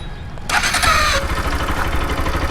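A seven-year-old Bajaj Pulsar RS 200 motorcycle with 40,000 km fires up with a short starter whir, then settles into a loud, close, steady idle with an even low thrum.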